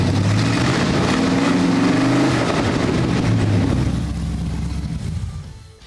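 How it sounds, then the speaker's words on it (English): An old square body tow truck engine cranks over and catches, then revs with a couple of throttle blips before settling and fading near the end, loud and close. "we were able to crank up the engine and give it a couple pops of the throttle"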